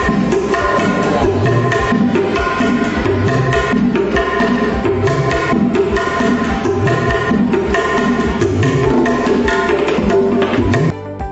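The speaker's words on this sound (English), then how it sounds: "9. Kendang, a horizontal drum beat with the fingers at both ends." A kendang, a horizontal drum struck with the fingers at both ends, beats a busy, steady rhythm. The drumming is loud and continuous within dense, full ensemble music and ends abruptly.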